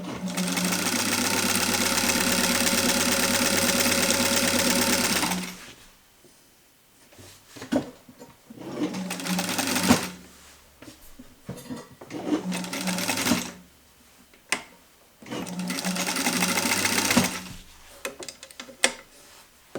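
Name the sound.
vintage Sewmor 606 sewing machine stitching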